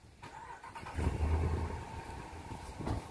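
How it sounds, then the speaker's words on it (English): A car engine starts and idles alongside a running truck, a low steady rumble that swells after a second and holds with small fluctuations, fairly close. "Car's on, truck's on"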